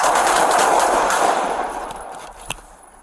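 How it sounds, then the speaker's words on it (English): Gunfire during a police body-camera encounter with a man, a loud rapid burst of shots fading out over a couple of seconds, followed by a single sharper report, with no talk. "Officer needs help. Shots fired."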